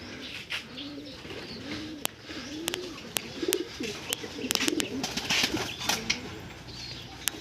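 Racing pigeons back from a race coo steadily in low, rolling calls, mixed with sharp clicks and the rustle of wings in the loft.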